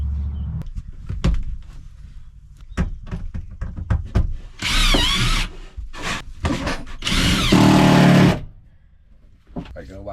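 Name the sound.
drill drilling pilot holes in wooden battens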